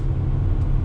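Deep, steady engine rumble of a 2019 Acura RDX A-Spec, played through the cabin sound system, a brief low-pitched drone heard from inside the car.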